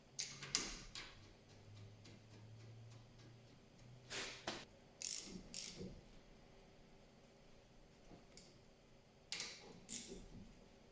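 Two bolts are fitted and tightened on a Hyundai Elantra front brake caliper. Sparse, close metallic clicks and taps come in small clusters over a quiet background, with no talking.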